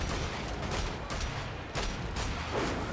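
Enemy gunfire in the shooter Wolfenstein: The Old Blood at a dig site, a loud, dense volley of overlapping shots and impacts over three seconds.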